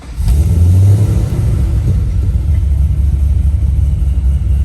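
A supercharged 2013 Holden Commodore VF SS V8 with a decent cam, manual sedan, revs with a deep loud rumble that swells early then settles into a steady lumpy idle, close by.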